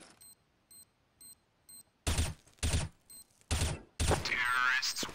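A planted bomb in Counter-Strike: Global Offensive beeps in short, evenly spaced ticks, then loud bursts of gunfire cut in and dominate while the ticking continues underneath.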